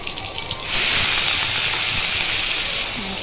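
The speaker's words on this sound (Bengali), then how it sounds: "এবার দিয়ে দেবো শুকনো কাঁচা লঙ্কা, সর্ষে ফোড়ন দিয়ে দিলাম।" Dried chillies and mustard seeds drop into hot oil as a tempering and burst into a loud, sustained sizzle, rising sharply from a quieter start and hissing steadily to the end.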